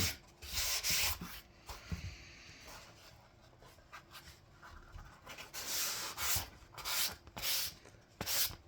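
Sandpaper rubs back and forth over a wooden heart by hand in uneven strokes, sanding a water-based top coat, a scratchy rasp that swells and fades close by.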